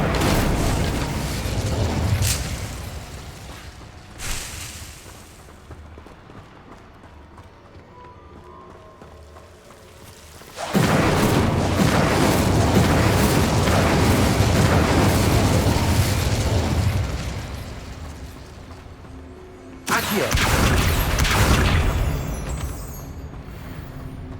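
Incendio fire spell cast in Hogwarts Legacy, loud whooshing bursts of flame heard three times, each a sustained roaring blast lasting several seconds, with quieter game ambience between them.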